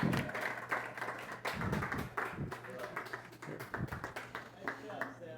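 An audience applauds and cheers for a boy after his speech about climbing El Capitan with his father. Steady clapping and scattered cheers fill the room over several seconds, mixed with voices.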